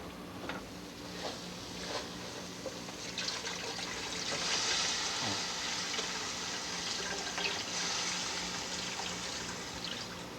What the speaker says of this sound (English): add about 5 cups of water, or just enough to make a soupy consistency